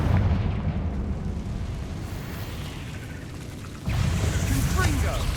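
In the video game Hogwarts Legacy, a Confringo fire spell explodes with a loud, dense rumbling blast that dies down slightly, then flares up again in a second burst near the end.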